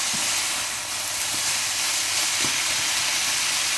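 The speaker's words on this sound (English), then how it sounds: "we just need to add our 200 grams worth of vegetables and cook this for another couple of minutes" Chicken and vegetables for nasi goreng fry in a pan with a steady, loud hiss and sizzle, and a few faint clicks come through near the start and middle.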